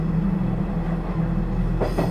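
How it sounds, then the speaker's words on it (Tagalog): A train runs along the track with a steady low rumble and droning hum, close and continuous, brief rattling rising near the end. "Ngunit patuloy lang sa pagtakbo ang tren."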